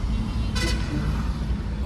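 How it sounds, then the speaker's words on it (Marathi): In a rainy traffic jam in Pune, one short car horn toots close by over a steady rumble of engines and road noise. "पूर्ण ट्रॅफिक जॅम आहे"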